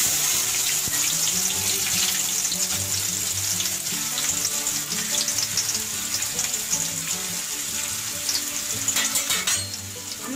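Chopped onion frying in a spoonful of ghee over oil for a crab malai curry, giving a loud, steady, dense sizzle that runs throughout without a break.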